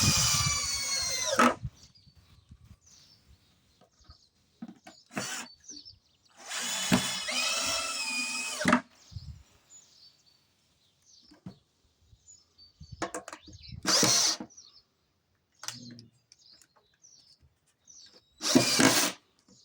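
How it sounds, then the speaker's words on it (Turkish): A power drill drives 7 cm screws into a wooden beehive box, with several loud whirring bursts of one to two seconds each, separated by quiet gaps, close to the listener. "ve sonra 7 santim vidayla vidalıyorum"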